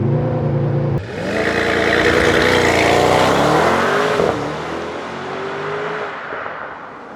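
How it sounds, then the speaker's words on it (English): A Mercedes GT63s AMG launches from launch control, its engine droning at a high hold before surging into a loud, close full-throttle acceleration. A gear change interrupts the rising pull before the roar settles lower. "Let's put this car into launch control mode."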